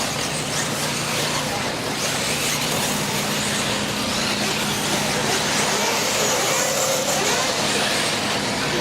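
Electric RC off-road buggies racing at full throttle in a club series final, a steady high-pitched motor whine and rushing noise that runs throughout, with an announcer talking over it.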